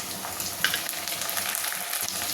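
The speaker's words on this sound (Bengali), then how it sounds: "এটাকেও ভালো করে একটু নেড়ে চেড়ে ভাজা ভাজা করে নেব" Chopped tomatoes frying with onions in hot oil in a pan, a steady close sizzle with soft scraping as they are stirred, alone without talking.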